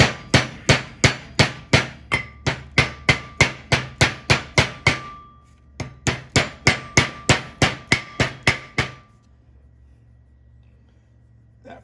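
A hammer delivers a long series of quick, light, evenly spaced metallic taps to seat a front wheel bearing grease seal on a 1973 Mach 1, loud and close, with a short pause midway before stopping.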